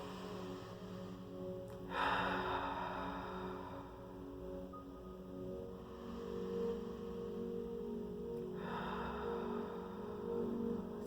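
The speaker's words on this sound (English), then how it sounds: "So it's always good to do in through the nose, out through the mouth, right?" Slow, deep breathing in through the nose and out through the mouth. The airy breaths rise and fade at long, even intervals and are soft and close.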